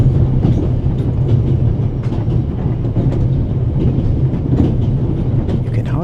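A runaway steam train with a coal-fired engine and tender rolls along in the game The Raven, with a steady rumbling roar and a continuous clickety-clack of wheels on the rails, loud and close throughout.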